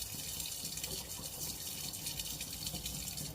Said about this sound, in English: And now we're going in with water.